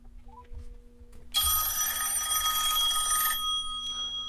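A phone call rings out from a smartphone, a loud sustained electronic ring tone that starts after a brief quiet lead-in and runs steadily for about two seconds before fading, with a low hum beneath.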